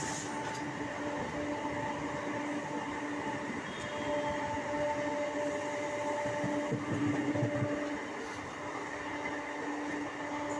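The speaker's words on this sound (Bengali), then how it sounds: "এই মেমো ট্রেনের আমার একটা জিনিস ভালো লাগে" Sealdah to Godda MEMU train running, a steady loud rumble of wheels and carriage with humming motor tones throughout, heard from inside.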